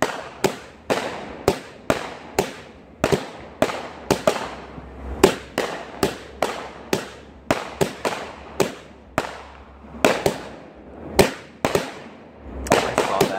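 Fourth of July fireworks burst one after another in a rapid irregular series of sharp, loud bangs, each trailing off briefly before the next, with some crackling and no clear talk.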